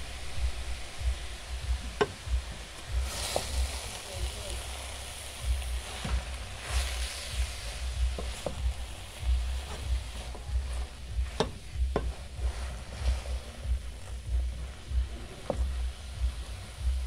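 Cabbage and tomatoes being stirred in a frying pan, a steady soft sizzle under repeated scraping and clinking of a utensil against the pan, fairly quiet and close with no talk.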